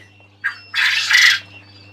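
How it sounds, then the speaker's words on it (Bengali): Quails and king quails call from close by in a poultry setting: one short chirp, then a louder burst of harsh, squawking calls lasting about half a second, over a low steady hum. "কোয়েল পাখিতে ডাকতেছে, নিচে কিং কোয়েলে ডাকে"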